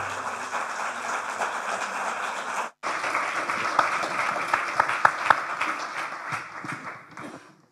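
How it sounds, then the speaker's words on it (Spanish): An audience at a university architecture forum applauds with dense, steady clapping. There is a brief cut partway through, and the clapping then continues with some louder individual claps near the end. "Démosle un fuerte aplauso"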